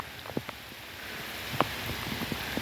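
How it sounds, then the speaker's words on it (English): Rain settling in at an outdoor fishing spot, a soft steady patter with a few sharper drops striking nearby surfaces, quiet and continuous with no voices. "you can see that rain set in on us again there"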